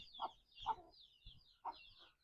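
Quiet clucks come from Thai backyard chickens, two hens and a rooster, in a handful of separate short calls with silence between them.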